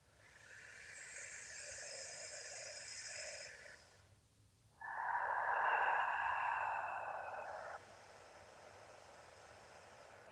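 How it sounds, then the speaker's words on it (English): Deep breathing during a guided morning meditation practice: one long, airy breath, a brief pause, then a louder, fuller breath close to the microphone that fades into quiet. "Listen to the sound of your breathing."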